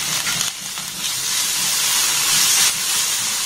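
Cut paneer pieces frying with spices in a pan, a loud, steady, close hissing sizzle that runs without a break for a few seconds.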